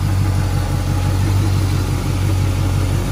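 A new crate engine in a 1977 Cutlass Supreme runs steadily at close range, giving a loud, continuous low rumble with no talk over it.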